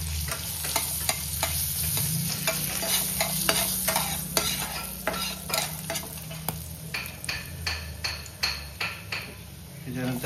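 Whole spices such as cloves, peppercorns and mace fry in a pan as they are tossed, with a steady sizzle broken by repeated sharp clinks and scrapes of the utensil against the pan.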